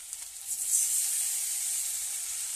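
Ginger, cumin, turmeric, chilli powder and mustard paste fry in a pan, a bright hissing sizzle swelling after a soft start and then holding steady.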